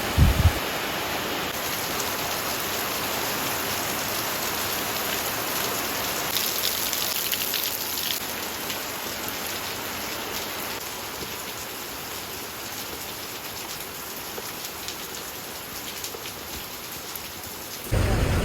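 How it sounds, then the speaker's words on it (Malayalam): Heavy rain pours steadily in a dense, constant hiss, with low rumbles of thunder rolling beneath it throughout. "ഭയങ്കര മഴ പെയ്തു"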